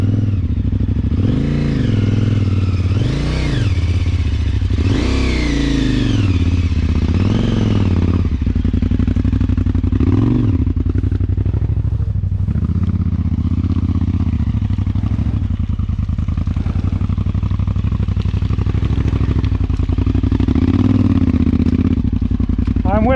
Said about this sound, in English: Let me move the bike out of the way